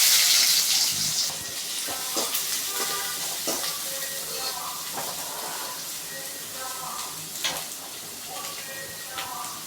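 Chopped onions hitting hot oil with popped mustard seeds, a steady broadband sizzle with scattered clicks and stirring scrapes, close and fairly loud throughout, with a little background speech.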